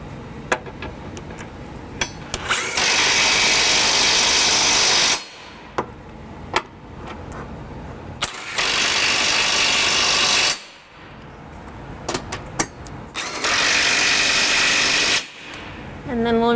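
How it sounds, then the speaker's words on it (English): An electric drill with a deep 22mm socket snugs down trailer hitch bolts on a 2020 Acura MDX in three sustained bursts of a few seconds each, with short clicks and clatter of handling between. "we're going to use our electric drill and a deep 22mm socket to just snug them down"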